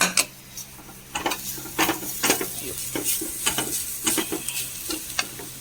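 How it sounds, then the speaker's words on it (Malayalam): Grated coconut roasting in a pan for a vegetable stir-fry, with repeated close scraping strokes of a spoon or spatula over a steady low sizzle. "ഇവിടെ ഉപ്പേരിക്കുള്ള നാളികേരൊക്കെ മൂത്ത് വന്നിട്ടുണ്ട്"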